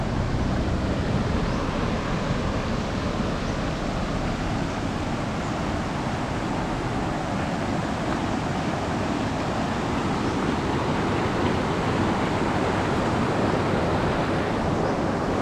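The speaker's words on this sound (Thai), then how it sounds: "นี่ครับน้ำเริ่มไหลมาแรงเรื่อยๆ" Strong water rushing over rocks at Chet Khot waterfall in Saraburi, a dense, continuous roar of steady loudness throughout with no voices.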